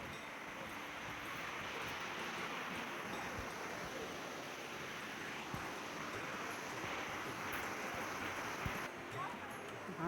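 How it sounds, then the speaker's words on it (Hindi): A waterfall near a temple in Katra gives off a constant broad rush of falling water, steady and fairly close, with voices speaking over it. "तो पहले मैं झरने का दिखा देती हूँ आपको"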